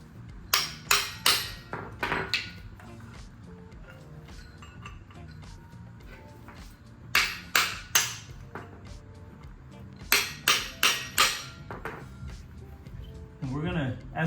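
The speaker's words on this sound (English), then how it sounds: "I think I'm going to end up using a little chisel" A small chisel is struck with a hammer to separate the center carrier bearing on a BMW. Sharp metallic blows land close by in quick clusters of four or five, with a person talking between the rounds of strikes.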